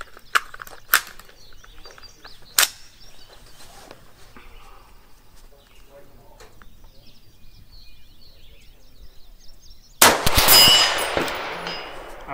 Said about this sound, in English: Look at how much muzzle rise we're getting with this Ultradyne.